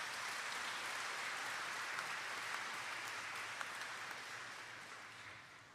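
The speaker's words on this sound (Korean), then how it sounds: "신부님께도 박수 부탁드리겠습니다." Congregation applauding at a Catholic celebration of priests' 60th and 50th ordination anniversaries, a quiet, even wash of clapping from a crowd in a hall that lasts throughout and slowly tapers off.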